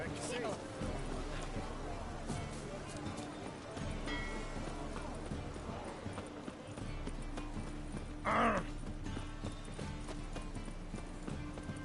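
Horse hooves clip-clop at a steady walking rhythm, mid-distance, beneath continuous voices and scene sounds, with a short whinny-like burst partway through.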